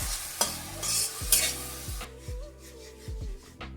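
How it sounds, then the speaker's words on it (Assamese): Spices with turmeric and salt are stirred in a hot pan, sizzling steadily under a run of repeated scraping strokes, close and fairly loud, with no talking. "এতিয়া ভালকৈ মিলাই ল'ম।"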